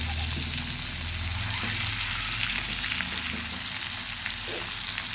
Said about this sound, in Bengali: আস্তে আস্তে এভাবে সবগুলো ডিম উল্টে দেব।